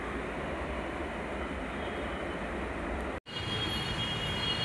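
Inside a Hyderabad metro station, a train's steady rumble and rolling noise fills the space at a constant level, broken by a brief cut before a high whine resumes, with no talking.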